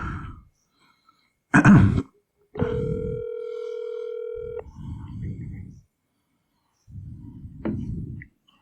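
A telephone line tone sounds steadily for about two seconds, while people nearby clear their throats, cough and make short muffled noises before and after.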